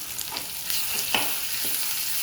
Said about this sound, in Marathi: तेलात 1-2 मिनटं परतून घेऊ